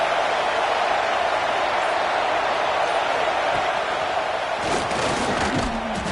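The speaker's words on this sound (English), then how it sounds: "listen to this crowd noise. This stadium is vibrating." Football stadium crowd at an Iron Bowl game, a loud sustained roar filling the air throughout, with a burst of sharper noise and a rising tone near the end.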